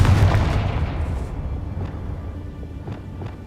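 A fiery Confringo spell blast in the video game Hogwarts Legacy opens with a loud, boomy burst that decays into a rumbling tail, with a few fainter pops following.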